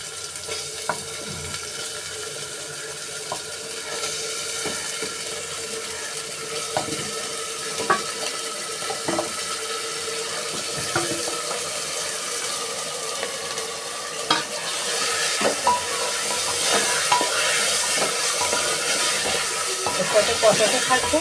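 Spice-marinated chicken for biryani sizzles steadily in a pan while a utensil stirs it, giving continuous frying hiss and repeated scrapes and knocks over about twenty seconds, growing slightly louder toward the end.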